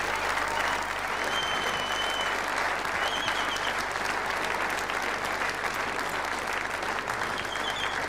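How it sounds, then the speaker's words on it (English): A crowd at the 2004 World Pool Championships men's final applauds, with steady, dense clapping that holds at a loud level throughout and a faint murmur beneath it. "The crowd are appreciating it."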